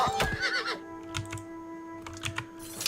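Horse in the video game Oblivion Remastered whinnying in a short, loud, quavering burst near the start, followed by sparse clicks and clatter, like keyboard typing, over a steady low hum.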